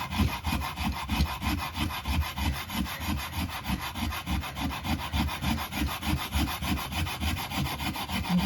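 Steady rhythmic rasping of a file stroking across wood to cut a rounded bevel, repeated back-and-forth strokes at an even pace, close and fairly loud with no talking.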